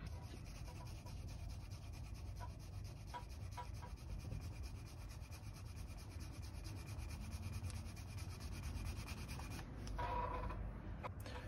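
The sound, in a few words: sanding leather edge with 600 grit sandpaper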